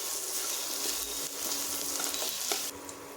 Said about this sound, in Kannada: ಶುಂಠಿ ಬೆಳ್ಳುಳ್ಳಿ ಪೇಸ್ಟನ್ನು ಸೇರಿಸಿ ಹಸಿ ವಾಸನೆ ಹೋಗೋವರೆಗೂ ಇದನ್ನು ಫ್ರೈ ಮಾಡ್ತಾ